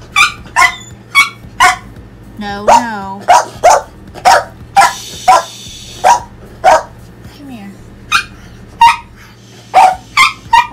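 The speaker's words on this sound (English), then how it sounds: "I don't know why she's barking." A pet dog barks repeatedly at close range, sharp loud yaps in an irregular series with a short whine in between, while someone speaks to it now and then.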